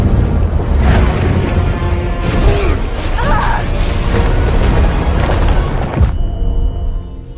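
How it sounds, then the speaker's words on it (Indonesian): Loud, sustained cinematic explosion, a dense roaring blast with heavy rumble and crashing debris, ending abruptly near the close. "Ledakan itu juga membuat kapal selam Taylor dan Jiu Ming terkena reruntuhan"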